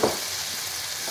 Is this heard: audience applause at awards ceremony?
no